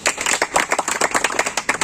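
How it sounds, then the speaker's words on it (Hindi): Dense, steady audience applause with many hands clapping close together, loud and continuous throughout the short burst. "इनके लिए जोरदार तालियाँ।"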